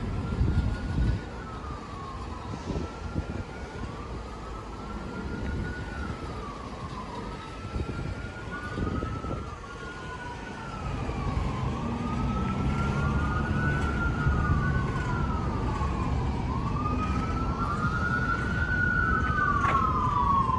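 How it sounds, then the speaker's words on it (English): An ambulance siren and a fire engine siren rise and fall repeatedly over steady road rumble, one trailing another, moderately loud and continuous throughout. "It sounds like we have the ambulance behind us, and this is a fire department."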